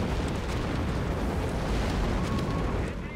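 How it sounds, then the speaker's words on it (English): A Stuka dive bomber attack in Company of Heroes 3, a dense, steady roar of blasts and rumbling explosions filling the whole stretch with no pause, loud and close. "I hear a Stuka. Take cover."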